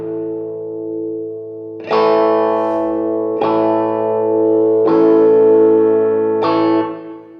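Electric guitar played through a NuX Mighty amp, four loud distorted chords struck at a steady pace, each ringing out with chorus and echo over a held low note.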